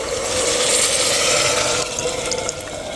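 Water pours in a steady stream into a pot of dal and rice for khichdi, a loud close gush that shifts in tone as the pot fills, then a brief clink.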